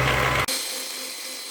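Electric hand mixer beating cupcake batter, a steady high whirring drone that briefly cuts out and then resumes slightly lower, close and continuous with no talking.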